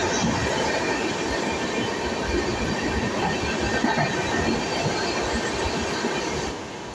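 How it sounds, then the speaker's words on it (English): The Dakshin Express passenger train in Madhya Pradesh, heard from on board: a steady, loud rumble of wheels with rhythmic clatter and a faint squeal, easing slightly near the end. "This is Dakhin Express we are traveling."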